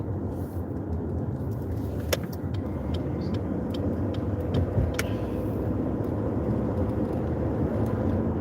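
Steady road traffic heard from inside a moving car, a continuous loud engine and tyre rumble with a few sharp clicks and knocks scattered through it, no voices.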